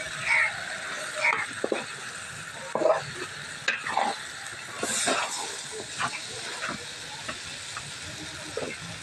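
Spiced chicken sizzles in a pan while a utensil stirs it, giving repeated scraping strokes and bursts of hissing frying over a constant crackle, heard close with no talking.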